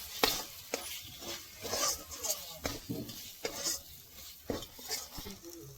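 A spoon stirs coriander and cumin powder into a masala for pangas fish jhal in a pan, giving close, uneven scraping and clinking strokes with soft sizzling beneath, no voices.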